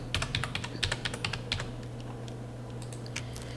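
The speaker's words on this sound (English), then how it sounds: "Then you type in the medical aid number." Someone enters a medical aid number on a computer keyboard, producing a quick run of crisp, close keystrokes that thin out into a few scattered taps over a steady low electrical hum, with no speech.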